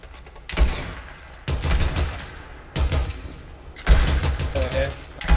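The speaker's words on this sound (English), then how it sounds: "Let's go off this ASAP because we're being shot at." Rapid gunfire bursts in the Fortnite battle royale video game, four loud volleys of automatic shots separated by brief pauses, with players talking over the game sounds.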